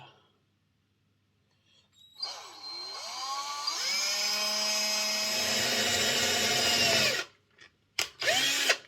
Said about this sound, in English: I have to drill a couple little holes and put a couple of screws through